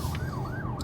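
An ambulance siren wails in a steady rising and falling sweep, fairly loud and close, moving past with no talk over it.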